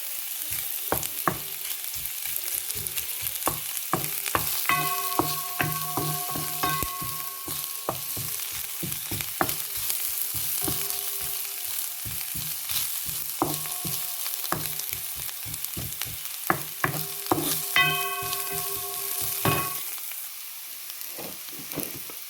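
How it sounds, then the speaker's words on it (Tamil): Garlic and ginger sizzle steadily in hot oil, with a dense crackling hiss broken by many sharp clicks and scrapes of stirring against the pan, plus a few brief ringing utensil taps; no voices. "கொஞ்சம் எண்ணெய் விட்டேன்னா இதில் உள்ளி இஞ்சியையும் போடுவேன்"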